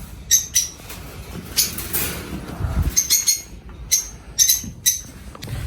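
A pet parrot gives repeated sharp squawks and chirps up close, in short loud bursts with brief pauses, over a rustling background.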